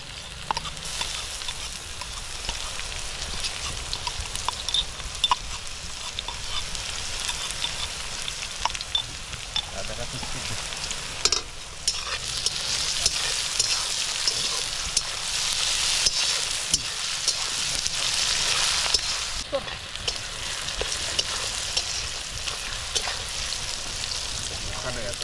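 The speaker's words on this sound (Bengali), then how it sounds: "রসুন দিচ্ছি তো গাইস পেঁয়াজ ভাজা হয়ে গেছে দিয়ে দেওয়া হচ্ছে রসুন এখন" Garlic added to already-fried onions sizzles steadily in a pan for a pork head curry, with scraping stirs and bursts of louder crackling midway, close and continuous throughout.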